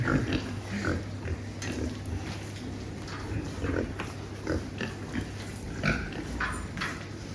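Young pigs being fattened in a pen grunt and snuffle repeatedly at close range over a steady mechanical hum, with irregular short squeals and grunts overlapping throughout.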